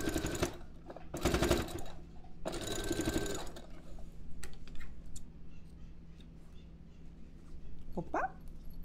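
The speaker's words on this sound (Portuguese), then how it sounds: "Mas é só uma costura reta" A sewing machine stitches a straight seam on a fabric toiletry bag in three close, loud bursts of rapid whirring separated by short pauses, followed by quiet room tone and a brief high dog whimper near the end.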